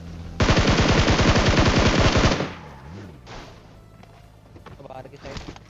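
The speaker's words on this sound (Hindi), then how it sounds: "अब स्क्वाड हाउस की तरफ से जो भाई साहब गोली चलने की आवाज़ आ रही थी" A sustained burst of rapid automatic rifle fire rattles for about two seconds in a mobile battle royale game, followed by quieter in-game ambience and scattered smaller sounds.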